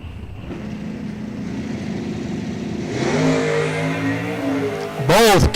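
Drag racing cars launch into wheel stands at a dragstrip event, engines building from a rumble to a roaring acceleration, ending in a loud passing whoosh up close, with a commentator's voice audible early on.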